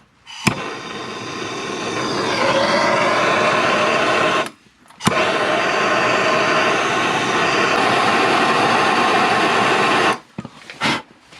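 A torch heats a cracked frame on a 1994 GMC Sierra K1500 pickup, giving a loud, steady roaring hiss in long sustained bursts with brief pops as it cuts in and out.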